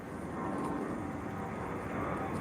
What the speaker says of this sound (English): I'm gonna allow this plane to pass.